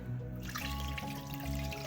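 Stock poured into a pot of oxtail kare-kare, a low continuous trickling gush, close and steady throughout with no speech.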